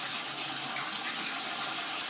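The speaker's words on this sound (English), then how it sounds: "And I'll try and give it a bit of a flush out." Water gushes steadily out of a basin drain pipe being flushed near a bath, a loud continuous rushing stream with no voices.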